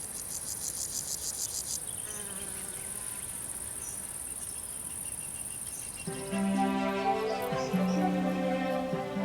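Insects buzz and chirp in a summer meadow at the end of June. The sound is a dense, continuous drone of crickets and buzzing flies and bees, and it grows louder and richer partway through.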